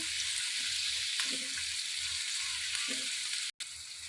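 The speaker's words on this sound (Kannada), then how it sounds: "ನೋಡಿ ಸ್ನೇಹಿತರೆ ನೀವು ನೋಡ್ತಾ ಇರ್ಬೋದು ಈರುಳ್ಳಿ ಎಷ್ಟು ಚೆನ್ನಾಗಿ ಫ್ರೈ ಆಗಿದೆ ಅಂತ" Onions fry in a pan with an even, close hiss, a low rumbling burner hum underneath and a couple of soft stirring knocks, briefly cut off by a silent gap near the end.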